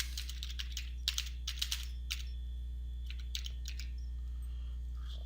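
Fingers type on a computer keyboard in short bursts of rapid clicking keystrokes separated by pauses, close and clear over a steady low electrical hum.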